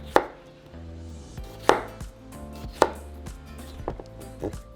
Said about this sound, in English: now I'm going to grab my tomatoes and do the same. We're going to cut them